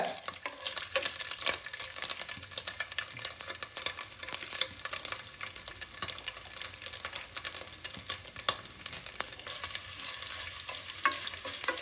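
Chopped ginger frying and sizzling in a hot pan while being stirred, with steady crackling hiss and frequent scraping strokes of a spoon, close and continuous without talk.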